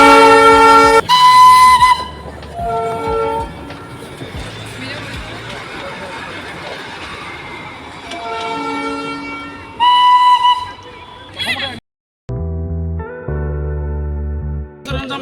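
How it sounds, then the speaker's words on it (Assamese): Darjeeling toy train passing on a cloudy day, with loud whistle blasts at the start and again later around a steady rumbling clatter of the cars. "টয় ট্ৰেইন আহি আছে"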